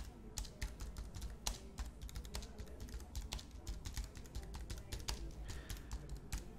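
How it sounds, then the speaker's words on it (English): Text typed on a computer keyboard, a rapid uneven stream of close key clicks and taps running continuously for several seconds, with no talking. "So we'll type some text in."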